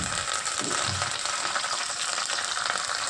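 Curry leaves drop into hot oil in a pan while making chicken fry, giving a dense, steady crackling sizzle, close and fairly loud, with no talking heard.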